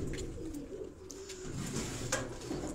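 A pair of pigeons coo softly nearby on a rooftop, low throaty burbling calls repeating over a quiet background with a few faint chirps.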